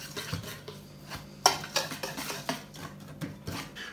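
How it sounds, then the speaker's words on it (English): Sugars, baking soda, baking powder and salt being stirred together in a bowl for scones, with soft scraping strokes and a few sharper clinks of utensil against the bowl, close and fairly quiet. "Mix these together."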